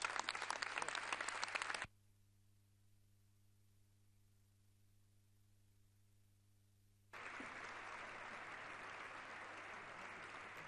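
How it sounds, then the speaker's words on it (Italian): Applause fills the Italian Chamber of Deputies, a dense roar of clapping that breaks off into near silence for several seconds, then returns at a steady, slightly softer level. "l'applauso dell'Aula"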